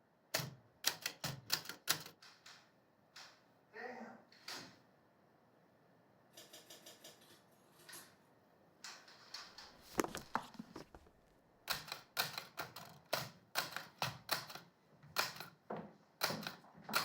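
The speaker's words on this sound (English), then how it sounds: "do you have a typewriter?" Mechanical typewriter keys clatter in irregular bursts of sharp strikes, with short pauses between runs of typing, close and fairly quiet with no talk.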